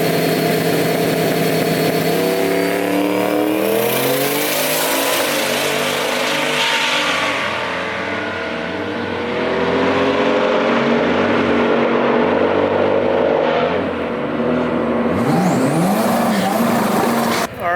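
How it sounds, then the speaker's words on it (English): A street truck at a drag strip revving to about 4,000 RPM and launching, a loud sustained engine roar rising and falling through gear changes, then fading briefly before another rev near the end. "we're going to try to launch it a little harder this time"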